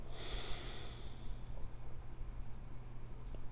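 Slow breathing in and out during a children's guided meditation, a long hissing exhale followed by a quiet pause and a brief faint breath, close and soft with no talking.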